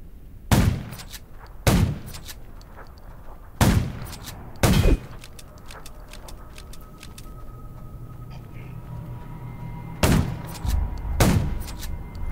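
Scattered loud gunshots in the video game Undawn crack out in pairs and singles over a steady low rumble near a junkyard, with long quiet stretches between bursts.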